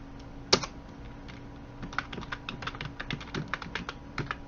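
Keyboard typing with Alt, Enter and Tab presses in an Excel tutorial: one sharp, louder keystroke followed by a brisk run of close, crisp key clicks.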